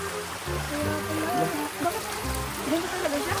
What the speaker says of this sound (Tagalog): Ilog po ito.